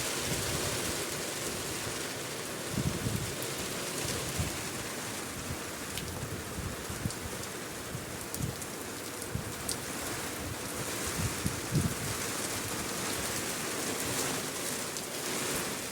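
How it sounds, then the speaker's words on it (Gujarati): Heavy rain pours steadily during an unseasonal April storm over farmland, a dense continuous hiss drumming on surfaces with occasional louder drops, with no voices. "જોરદાર વરસાદ મિત્રો આવી ગયો."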